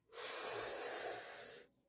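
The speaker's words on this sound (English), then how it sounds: "Breathing in through your mouth and exhaling through your nose." A steady, forceful breath drawn in through the mouth during a breathwork exercise, a close airy rush lasting about a second and a half, with nothing else heard.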